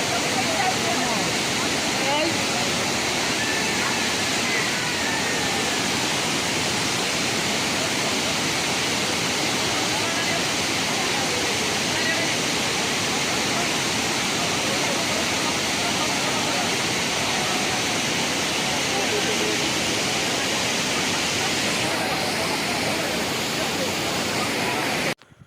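Water rushes through Balidiha Dam near Baripada in Mayurbhanj, Odisha, with the reservoir full. A loud, steady roar holds for the whole stretch and cuts off abruptly at the end.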